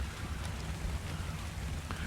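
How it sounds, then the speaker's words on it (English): Steady rain pours down in the game Ark Survival Evolved, a dense, even hiss of falling drops with a low rumbling undertone and no talking. "we got rain coming down"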